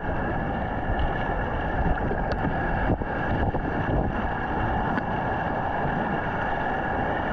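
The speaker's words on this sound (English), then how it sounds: "I feel just paddling down river, it goes really well." A Fluid Do It Now kayak is paddled down a river, giving a steady wash of moving water and soft rumbling noise with faint splashes and no talking.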